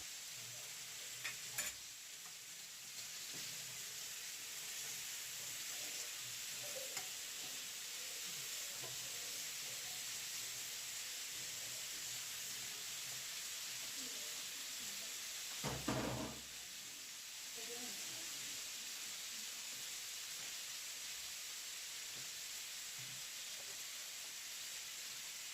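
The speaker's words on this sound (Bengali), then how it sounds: "তো এখন আমি এখানে এই বোয়াল মাছগুলারে বাজি করমু" Boal fish frying in a pan with ginger, garlic, onion and tomato, a steady broad sizzle and hiss running throughout with occasional stirring clatters.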